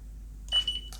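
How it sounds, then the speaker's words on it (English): A short, faint high-pitched electronic beep from a TBS Unify Pro32 HV video transmitter sounds twice in quick succession over a low steady hum. "Excuse the beeps again"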